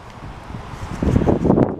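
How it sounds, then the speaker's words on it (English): Strong wind blowing outdoors on a cemetery visit, buffeting the microphone in rising gusts that grow louder toward the end, with no talking. "really windy out today."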